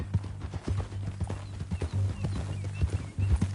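Horse hooves clip-clop in a steady walking rhythm inside a Western ranch video game, close and fairly soft, with no one talking over them.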